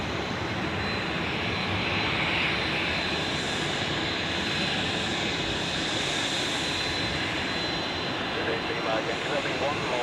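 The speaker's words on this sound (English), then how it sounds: "Let's get a close-up shot of this A350." An Airbus A350 jet at Zurich Airport roars steadily at close range, a broad continuous engine rumble and hiss with no break throughout.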